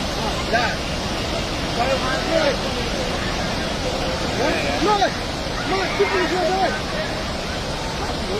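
A swollen river rushes with a loud, constant broadband roar, while excited voices shout and talk intermittently over the torrent.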